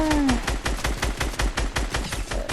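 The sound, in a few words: gunfire in a video game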